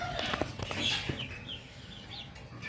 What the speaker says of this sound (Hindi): ये रहा हमारा असील मुर्गा